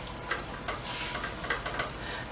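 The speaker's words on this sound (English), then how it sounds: "I am just stirring it as I cook it, and it looks wonderful." Lasagna filling being stirred as it cooks in a pan on a stove, with soft scraping strokes over a low, steady sizzle, fairly quiet and close.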